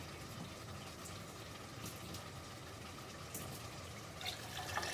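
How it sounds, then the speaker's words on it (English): Tap water runs steadily into a pot in a home kitchen for a Bangalore donne biryani, a continuous broadband splash with a faint rising fill toward the end, close and alone with no talk. "he's adding water from the tap"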